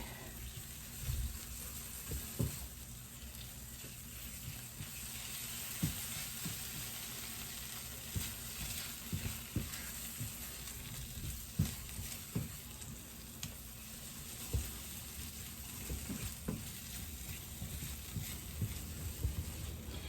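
Roasted pepper paste sizzling and frying in a pan, with a steady hiss and scattered soft crackles and pops throughout, alone with no talk.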